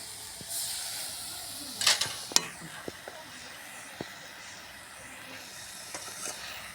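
Stems of ghum saag greens cook in a pan after a splash of water, giving a quiet hissing steam with a burst of sizzle and scattered light utensil clicks.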